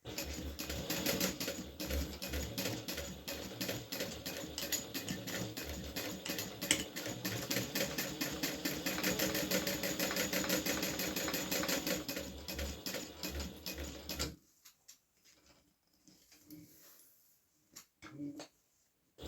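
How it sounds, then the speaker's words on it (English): A sewing machine stitches crossbody straps in a rapid, steady mechanical chatter for about fourteen seconds, back-stitching over elastic, then stops, leaving a few faint clicks and handling noises in a quiet room. "Okay, and then I do back stitch when I get to the elastic."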